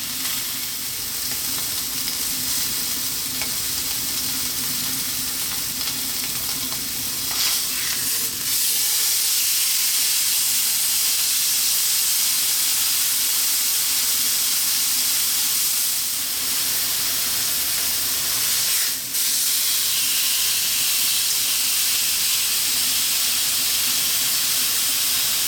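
Steak frying in a pan, a steady loud sizzle and hiss running throughout with brief crackling flares as the meat is flipped, no talking.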